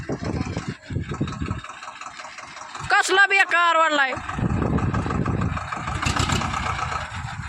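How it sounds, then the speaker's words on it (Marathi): A tractor engine runs close by while pulling at trees, a rough, uneven drone with a brief rising, tonal whine in the middle, and people talk over it. "तुम्ही बघू शकता अजून एकदा ट्रॅक्टर चाललाय"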